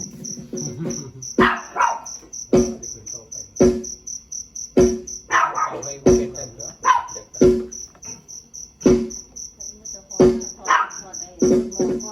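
A dog barks repeatedly in short sharp bursts about once a second, loud and close, at midnight in a Thai rural area, over a constant high chirping of crickets; brief voices appear in between.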